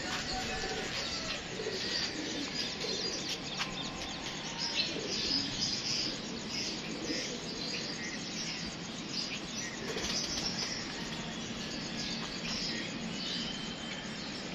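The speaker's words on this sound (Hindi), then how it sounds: "ये जी 7 परिंदे दोस्तों" Pigeons coo and other birds chirp in a steady outdoor chorus, with a constant insect-like buzz underneath, at moderate distance throughout.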